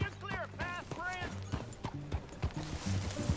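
Horse hooves clip-clop in a PS4 video game, with a whinny near the start, while characters talk over the steady hoofbeats.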